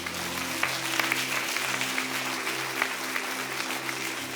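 Theatre audience clapping fills the space, a dense steady patter of many hands at moderate volume with a few sharper claps standing out, continuing without pause.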